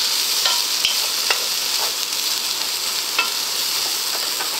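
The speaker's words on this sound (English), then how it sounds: "trying to stir a pan one-handed doesn't work very well" Beef taco filling with spices sizzles steadily in a frying pan, with a few sharp scrapes and clicks as a spoon stirs it close up.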